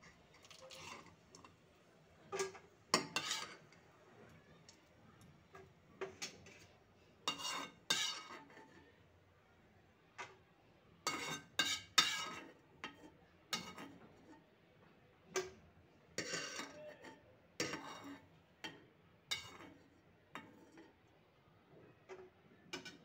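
Fried cashews are moved onto a plate for semiya kesari with scattered metallic clinks and taps of a spoon against a pan and plate, quiet between the sharp irregular bursts, with no talk.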